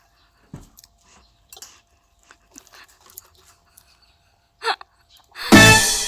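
Spicy instant noodles are eaten up close: scattered soft mouth clicks and small wet sounds, then one loud, long slurp at the end, with no talking.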